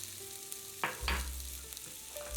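Sliced bell peppers sizzling in a pan while being stirred, a soft steady sizzle broken by two quick scraping stirs near the middle.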